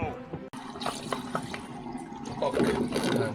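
A toilet fill valve, sitting slightly twisted, refills the cistern with a steady rushing, trickling stream of water heard close up, with a brief dropout early on and the flow growing louder toward the end.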